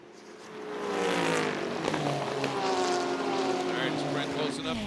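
A GT race car at Road America, a Blancpain GT World Challenge race, engine roaring loud and sustained with rising and falling pitch through the kink, while a commentator talks over it.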